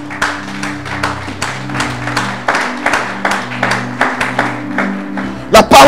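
A church congregation claps in praise of the Lord, a steady rhythmic beat of many hands over a sustained organ or keyboard drone, ending in a sudden louder burst.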